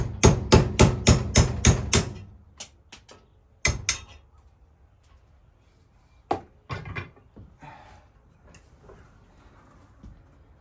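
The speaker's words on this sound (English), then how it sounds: "Just take a punch, knock the wood right out, and you got your steel barrel wedges back again." A hammer strikes a punch to drive wood out of a steel axe barrel wedge clamped in a vise: a fast run of sharp metallic blows, then scattered single knocks and clatter, close and alone.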